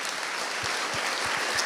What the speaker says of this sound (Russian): Похлопаем. Хлопайте друг другу хорошенько,